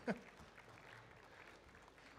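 Quiet applause from an audience at a coffee show competition, honoring the judges: a sharp clap or voice at the start, then soft, distant clapping continuing under faint crowd noise.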